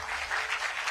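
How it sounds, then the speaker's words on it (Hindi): A short burst of steady audience applause at a live televised network event, many hands clapping together in an even, continuous wash. "जोरदार तालियां हो इसके लिए जरा।"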